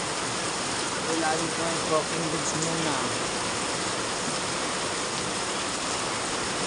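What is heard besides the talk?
heavy rain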